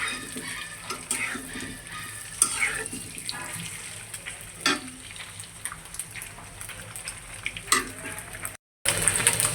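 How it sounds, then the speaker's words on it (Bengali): Eggs seasoned with turmeric and salt fry in oil, giving a crackling, spattering sizzle with irregular pops and bursts close to the pan, briefly cutting out near the end. "আমি কিন্তু এখানে হলুদ আর লবণ দিয়ে দিছি ডিমগুলো ভাজার জন্য।"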